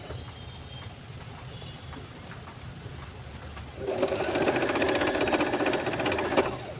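Sewing machine stitching lace onto a kurti, quiet room tone first, then a rapid mechanical rattling hum of the needle running steadily close by for the last few seconds.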